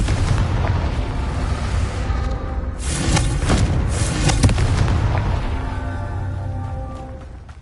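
Confringo blasting spell from Hogwarts Legacy erupting in a loud, dense explosive roar, with a sharper burst of crackling blasts in the middle fading into a rumbling tail.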